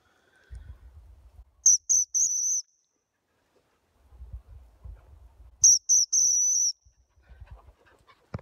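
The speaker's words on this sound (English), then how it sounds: "I'm going to blow the whistle and they're going to come" A shrill dog whistle blown twice, each time as three short blasts with the last held longer, with faint footsteps and rustling outdoors between them.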